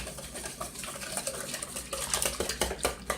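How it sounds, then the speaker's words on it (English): A whisk clicks briskly against a bowl while beating a mixture of 1% milk for bread pudding, an irregular, close metallic rattle with no talking. "And so I'm going to whisk that together"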